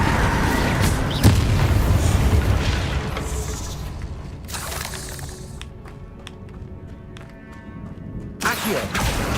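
An Incendio fire spell cast in the video game Hogwarts Legacy, a rushing fiery whoosh and boom that swells and fades, followed by quieter crackles and a second burst near the end.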